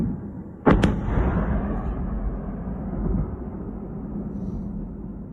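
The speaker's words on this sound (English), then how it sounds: "There was an explosion right over the horizon." A drone strike detonates over the horizon on the edge of Moscow, giving one sharp distant boom with a quick second crack, then a long rumbling echo that rolls on and slowly fades.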